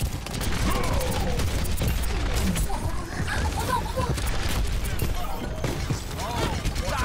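Gunfire in the video game Overwatch clatters in dense, rapid bursts, nearly continuous and loud, mixed with other busy game effects while a voice talks over it.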